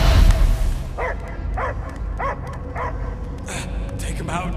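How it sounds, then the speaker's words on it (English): Dog barking in a cutscene from the Guardians of the Galaxy video game: four evenly spaced barks in the middle, with a couple of sharper yips near the end, set over a dense rumbling sci-fi backdrop. "I hear only barking."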